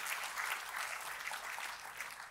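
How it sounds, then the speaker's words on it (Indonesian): A church congregation gives enthusiastic, sustained applause, a thick even wash of clapping heard throughout at moderate volume with no talk over it. "Jadi kita kasih tepuk tangan yang paling meriah buat Tuhan."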